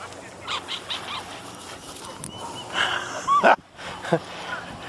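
A wet dog whimpers and yips softly a few times, short high-pitched cries in the background, while people talk quietly nearby.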